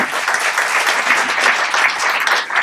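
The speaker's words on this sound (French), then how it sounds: "On peut l'applaudir." An audience at a talk on websites versus apps gives a dense, continuous round of applause, loud and close, with no speech over it.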